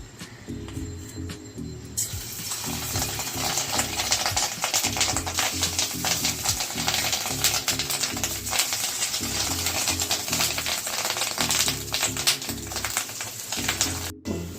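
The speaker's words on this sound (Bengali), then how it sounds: "এইবারে বড়া তেলে ভাজা হবে" Fish roe fritters made with gram flour, turmeric, salt, onion and chilli frying in hot oil, a steady dense crackling sizzle that starts after a quiet moment and holds loud and close throughout.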